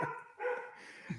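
A female dog barking once or twice nearby indoors, short yelping bark tones, fairly faint, with no speech.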